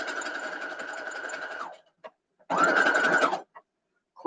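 Home sewing machine stitching a nine-patch quilt block, running in two steady bursts of whirring stitches separated by a pause and a few faint clicks, close by and without talk.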